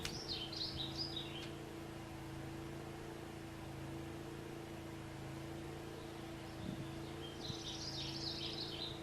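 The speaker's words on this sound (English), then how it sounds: "Yep, I hear birds." Birds chirp faintly in brief bursts near the start and again near the end, over a steady low background hum of a running Honda generator.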